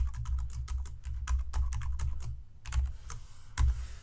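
Rapid keyboard typing, a steady run of clicky keystrokes at close range with a couple of heavier key presses near the end.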